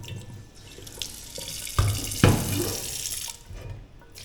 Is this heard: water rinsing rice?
yes